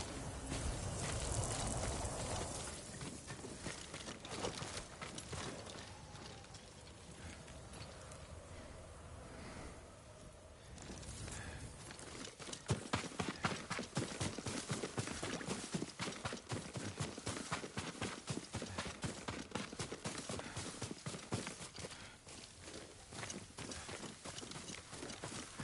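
Horse hooves clip-clop in the video game Ghost of Tsushima, a steady rhythmic trot that is moderately loud and runs through most of the stretch with no talk over it.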